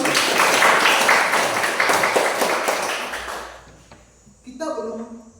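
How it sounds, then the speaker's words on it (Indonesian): Applause from an audience at a church teaching session, dense clapping that fades out after a few seconds, followed by a voice speaking. "mari kita berikan tepuk tangan untuk Olive"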